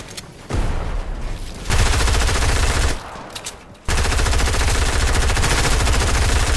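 Sustained automatic gunfire close by in a video game, long loud bursts broken by a couple of short gaps before the firing resumes steadily.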